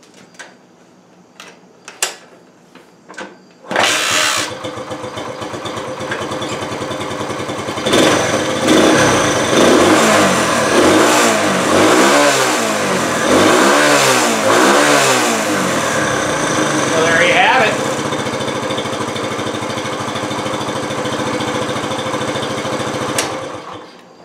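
A 1968 Honda Trail 90 motorcycle starts after a few clicks and thumps, then revs repeatedly in rising and falling swells before settling into a sputtering idle, loud and close with no talking.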